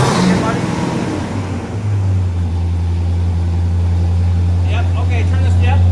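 A 1966 Pontiac GTO engine cranks and catches, then settles into a loud, steady, deep idle rumble that fills the clip, with a voice briefly heard over it.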